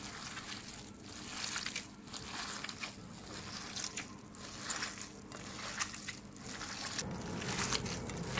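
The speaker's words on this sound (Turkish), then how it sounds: "Birkaç damla zeytinyağımızı da ilave ederek yoğurma işlemimize başlıyoruz." Wet, squishy squelching and slapping as a meatball mixture of minced meat with a few drops of olive oil is kneaded by hand, continuous and close, with no talking.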